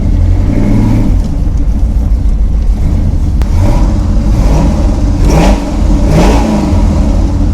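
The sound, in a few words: Toyota build car engine revving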